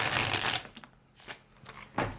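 A quick riffling flutter of cards being shuffled, followed by a few softer taps and a second brief riffle.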